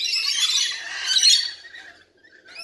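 Birds squawk loudly and harshly close by in a brief, noisy burst that fades toward the end.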